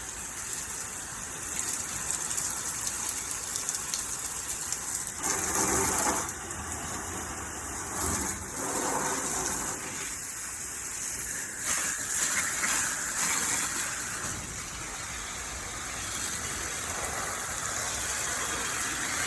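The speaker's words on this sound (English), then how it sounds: "I squirt in the front here in the cement so the water goes underneath." A garden hose spraying water onto cement and plants in a yard, a steady gushing hiss that runs throughout, with brief louder bursts as the stream shifts, and no talk.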